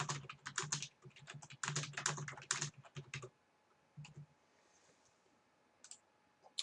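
Rapid, close keystrokes clatter on a computer keyboard for about three seconds, then stop, leaving near silence broken by a couple of faint isolated clicks.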